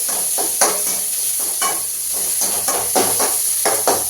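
Small onions (shallots) sizzling in hot oil in a pan while frying for potato masala, a steady close hiss with irregular stirring scrapes throughout.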